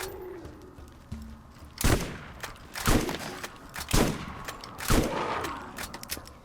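Four loud, evenly spaced shotgun blasts from a weapon in the Borderlands video game, each a sharp broadband crack with a short tail, standing alone over a faint background.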